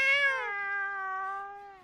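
A single drawn-out meow from a player-controlled cat in the video game GTA 5, close and clear, starting high and settling into a steady tone before fading.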